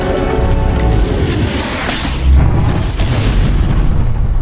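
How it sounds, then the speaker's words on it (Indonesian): A heavy explosion roars with a deep boom and a long rumbling, crackling wash of debris that keeps going loud and dense throughout. "Olivia meledakkan alien itu menggunakan bom buatan Patel"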